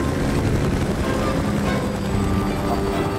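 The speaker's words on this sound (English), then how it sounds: "Oh, Pine drove the chopper here." Helicopter flying in the video game Battlefield Bad Company 2, a loud, continuous rotor and engine roar filling the whole short stretch, close and steady with no breaks.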